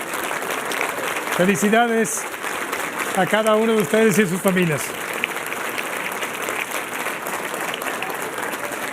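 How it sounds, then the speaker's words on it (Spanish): A church congregation on its feet applauds the 2023 graduates and their families, sustained clapping throughout while someone speaks over it in Spanish. "Un aplauso a todos."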